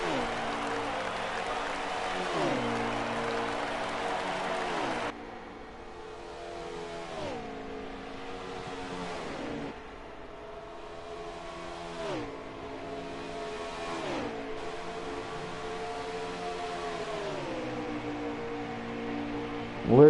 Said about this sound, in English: Listen to the cars roar at Hotlanta.